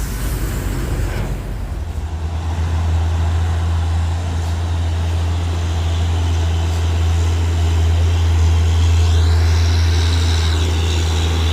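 A truck grinds past on a steep hill road, its loud low engine drone holding steady for several seconds, rising slightly as it draws near.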